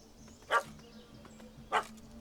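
Two short dog barks from a dog in The Witcher 3: Wild Hunt, spaced about a second apart and moderately near, over a quiet game ambience with a low steady hum.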